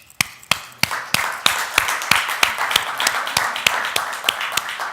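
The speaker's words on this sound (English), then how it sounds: "I'd like us to give this person a round of applause" At an Africonomie leadership talk, the audience claps for Vivina: sharp, evenly spaced claps ring out steadily over a softer wash of crowd applause.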